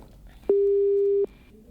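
A telephone busy tone as a phone connection drops during a call, a single steady beep lasting under a second, clear and close against a quiet background.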